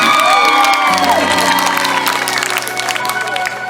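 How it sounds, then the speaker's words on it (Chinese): Applause and cheers from a large crowd at an outdoor evening variety concert for a festival in Chaozhou, Pingtung, clapping for the host while sustained music tones ring over it. "再一次给我们的漂亮的主持人热情掌声"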